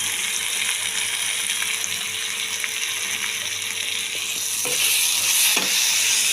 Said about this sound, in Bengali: পেঁয়াজটা যাতে একটুখানি ভাজা ভাজা হয়, কালার হয় লালচে, সেই জন্য।